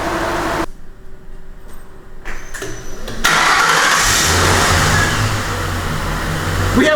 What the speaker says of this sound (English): We have a running engine.